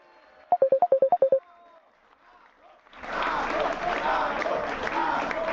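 Audience applause during a political speech in Salvador, Bahia, with clapping and crowd noise swelling in after about three seconds and continuing loudly to the end, preceded by a quick series of electronic beeps.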